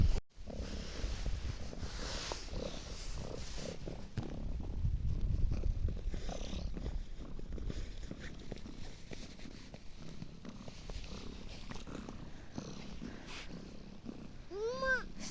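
A ginger cat purrs steadily at close range outdoors in fluffy snow, a soft low continuous rumble with faint outdoor background and a brief high squeak near the end.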